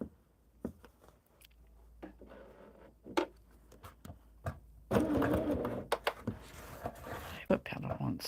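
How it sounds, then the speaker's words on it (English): A sewing machine stitches red fabric onto a sweatshirt in short bursts of rapid mechanical whirring and ticking, close by, with pauses and louder, longer stitching runs in the second half. "Take it to the sewing machine and stitch that red on."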